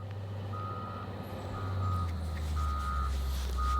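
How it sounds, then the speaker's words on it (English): Steady high-pitched reversing beeps repeat about once a second over a loud, constant low engine rumble from heavy machinery at a nearby active gravel pit. "I'm sitting next to an active gravel pit"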